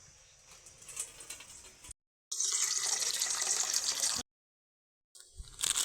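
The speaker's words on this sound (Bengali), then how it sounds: "সেই পাত্রের মধ্যে বেশ কিছুটা জল দিয়ে দেব" Water from a tap gushes into a large pot in a kitchen, a steady rushing pour in two bursts separated by brief silences, with no talking.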